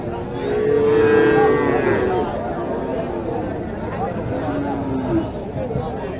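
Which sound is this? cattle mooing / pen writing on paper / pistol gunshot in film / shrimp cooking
cattle mooing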